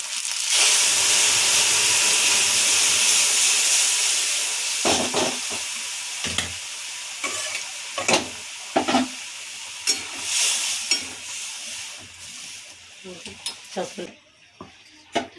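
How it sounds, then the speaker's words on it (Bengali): Hot tempering sizzles and hisses loudly as it hits masoor dal cooked with drumstick leaves, a steady frying roar at first that breaks into stirring clatter and intermittent spitting bursts. "ডালটা সম্বরে দিয়েছি।"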